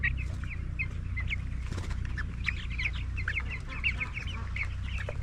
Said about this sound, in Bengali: এই হলো আমাদের মুরগির খামার পোলট্রি মুরগি এখানে সতেরোশোর মতো মুরগি আছে